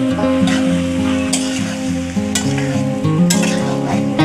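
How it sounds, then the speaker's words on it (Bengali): Ground coriander and cumin fry in a pan, stirred with a loud, continuous sizzle and regular spatula strokes scraping the pan, over a steady tonal hum. "এবার মশলাগুলোকে ভালোভাবে নেড়েচেড়ে মিশিয়ে নিচ্ছি"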